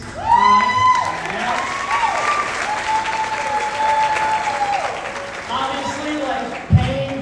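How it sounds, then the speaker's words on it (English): Applause and cheers for the parents at a wedding, a strong burst of clapping that rings out under a voice talking, with tonal sounds running through it. "Let's get a round of applause for the parents."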